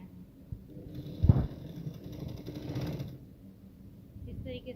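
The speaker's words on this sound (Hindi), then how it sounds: "तो हमने ये यहाँ पर जिप को स्टिच कर लिया" A sewing machine stitches a zipper onto a lehenga in a brief close whirring run with a faint mechanical buzz. A louder thump comes early in the clip, and a voice speaks faintly alongside.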